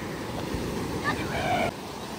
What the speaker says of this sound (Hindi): इतना ठंडा, एकदम से इतनी बड़ी बड़ी लहरें आ रही हैं।